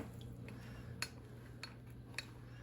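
Melted butter being mixed into crushed cookies for a baking crust, a quiet scrape and stir with a few light clinks of a utensil against a bowl, close by, with no talking.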